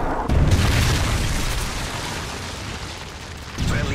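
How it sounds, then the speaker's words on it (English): A Predator missile strike in Modern Warfare 3 multiplayer on the Dome map lands as a sudden deep booming explosion followed by a long rumbling roar that fades slowly, loud and close, with a second swell near the end. "Predator missile inbound."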